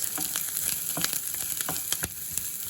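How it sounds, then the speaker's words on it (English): Mustard seeds pop and crackle in hot oil for sambar, sharp irregular snaps over a constant close sizzle. "I will add the mustard seeds. And it's important that this pops, sizzles."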